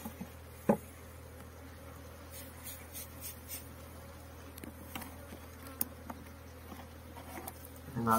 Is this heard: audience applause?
no